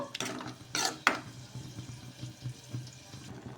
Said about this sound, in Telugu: ఒకసారి బాగా కలిపేసుకుందాము.